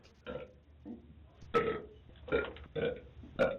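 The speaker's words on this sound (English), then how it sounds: "He burped." A man lets out several loud, croaky burps in a row, each one a separate guttural belch with short pauses between them, close to the listener.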